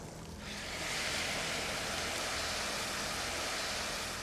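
Wine is poured onto toasted risotto rice in a hot pan for seafood risotto and hisses into a loud, steady broadband sizzle that swells within the first half second and holds, with no talking.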